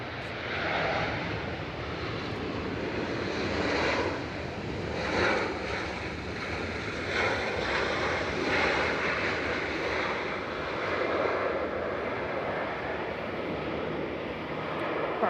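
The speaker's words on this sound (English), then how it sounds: "That's Shuttle 2 Kilo with flight 1402 from British Airways coming in from Heathrow" A British Airways jet arriving at Manchester Airport from Heathrow, a steady distant engine roar mixed with gusty wind rumble across the microphone, no voices.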